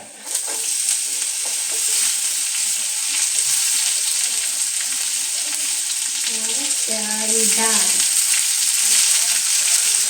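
Bitter gourd frying with onions in a pan for a homestyle curry, a loud, steady close-up sizzle with stirring, and a short voice murmur partway through.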